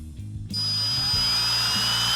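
A power drill spins an engine oil pump to prime it on a numbers-matching Cuda, starting abruptly after a quiet half-second and then holding a loud, steady, high-pitched whine.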